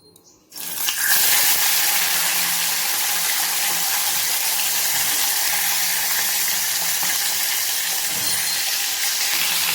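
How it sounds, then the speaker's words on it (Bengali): Pomfret fish hits hot oil in a wok and breaks into a loud, continuous sizzle that holds steady for several seconds after a brief quiet start, with no voices. "আমি এই রকম করে সবকটা মাছ একটা একটা করে ভেজে নেব।"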